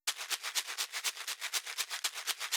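Unfiltered low Foley rattle shaker from an Afro House track, brighter and louder with crisp, sharp transients, rattling in a fast, steady rhythm of many even hits.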